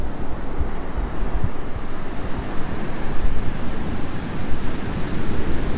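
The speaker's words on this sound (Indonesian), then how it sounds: "Kita lihat ombaknya tuh." Ocean surf rolls and breaks steadily on Pangasan Beach in Pacitan, East Java, a loud continuous wash of waves with wind buffeting the microphone and no voices.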